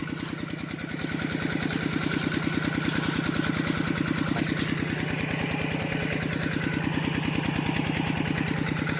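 Kubota engine driving a water pump for a check dam, a steady loud close-up idle-like chug with an even fast rhythm throughout, no voices.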